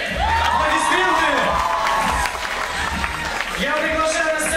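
Audience at a team stage event applauding and cheering loudly, with whoops and children's shouts riding over continuous clapping, and voices calling out throughout.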